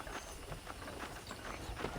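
In Red Dead Redemption, horse hooves clip-clop at a steady walking rhythm, faint and soft beneath a broad, hissy background wash, with no talking.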